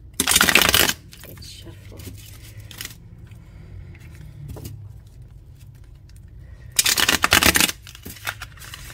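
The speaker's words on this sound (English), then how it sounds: "I'm trying to do the reverse shuffle." Tarot cards riffled in a reverse shuffle, two loud crisp bursts of riffling at the start and near the end, with quiet handling and faint room noise between.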